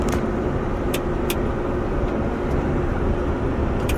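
A semi truck on a road gives a steady, loud broadband rumble of heavy traffic that holds constant throughout, with no talking.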